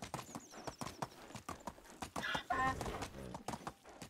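A donkey's hooves walk at a steady clip-clop pace in Medieval Dynasty, each step distinct and fairly close, with a brief animal vocal-like burst in the middle.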